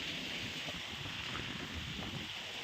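Wind blowing outdoors, a steady broadband rush with buffeting against the microphone, constant and moderately loud throughout, with no clear voices.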